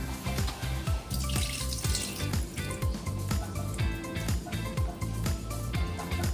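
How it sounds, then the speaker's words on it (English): Plain tap water is poured into emptied grape leaf containers and shaken around to rinse out the leftover brine, a steady wet sloshing and swirling of liquid heard close up for several seconds. "we can put some water, some normal water, shake it around a bit"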